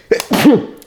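A single short, sharp sneeze close to the microphone, with a quick inhale before the burst and nothing after it.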